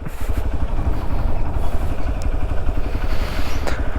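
A motorcycle engine runs steadily nearby with a rattling, clattering rumble as it rolls over the loose, rumbling deck of a narrow hanging bridge across a river.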